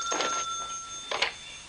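An old telephone bell rings twice in short bursts separated by a pause, clear and fairly close in a quiet room, in a 1970s drama.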